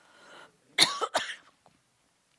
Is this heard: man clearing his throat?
yes